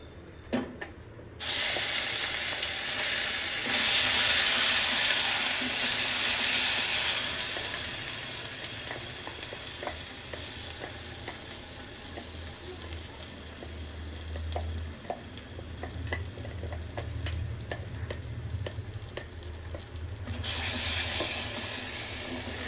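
Tempering hits a hot pan with a sudden loud sizzle that slowly fades to a softer crackle, then flares up again near the end.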